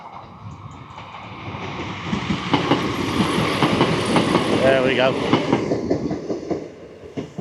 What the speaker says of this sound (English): A little bit of train footage for you there.